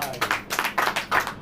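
An audience claps in rhythmic bursts during a Hindi church sermon, a moderately loud series of quick claps in regular groups with no speech over them.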